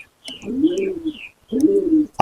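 Pigeons in a rural home loft at Mayapur give two deep, rolling coos, each close and clear and lasting about a second, separated by a short silence.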